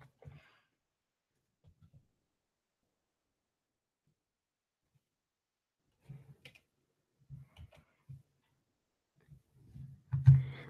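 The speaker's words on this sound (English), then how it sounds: "I don't know if you guys can hear me typing away." Sparse, soft tapping of keys on a computer keyboard, coming in short scattered clusters with quiet gaps between, growing busier at the end.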